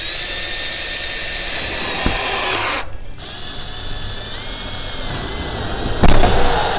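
A power drill drives Spax screws into sheet metal, its loud, steady whine briefly cutting out midway and rising again with a harder burst as a screw bites at the end.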